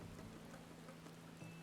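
Rain falling in the Final Fantasy XIV video game, a faint steady hiss of drops over a low hum.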